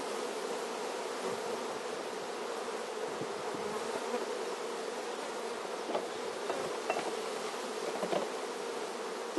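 Honey bees swarm inside a small nucleus hive while a queenless cell-builder colony is being set up. Their dense, steady buzzing stays close and constant throughout, with a few louder passes near the microphone.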